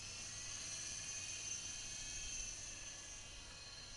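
An MJX T640 RC helicopter flies at a distance, its small motor giving a thin steady whine over faint wind, quiet and unchanging throughout with no talking.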